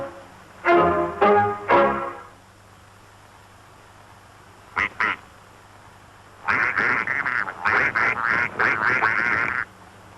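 Cartoon ducks quack in a flood scene: a short burst of a few loud quacks, a brief pair of calls, then a long noisy stretch of many overlapping quacks from a large flock.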